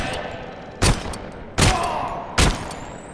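Three heavy gunshot bursts ring out at even intervals in the Robocop: Rogue City shooter as attacking Vultures close in, each a loud close blast over a steady background hum.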